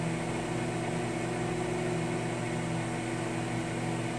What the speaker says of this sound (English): This microwave works.